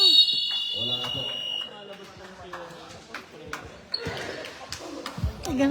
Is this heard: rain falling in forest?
no